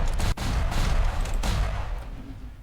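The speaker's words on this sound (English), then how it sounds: "this other one is the airstrike" Airstrike explosions from the DICED Pilot Editor video game crash in as dense, continuous booms and rumbling blasts, loud and close, with no talking.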